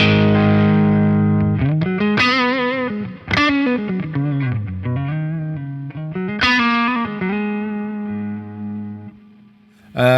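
Electric guitar runs through a Darkglass Hyper Luminal compressor pedal, playing sustained, evenly levelled chords and bending notes with a smooth, slightly driven tone, each strum ringing out closely before the next.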